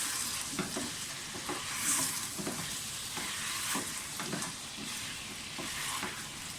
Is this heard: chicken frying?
yes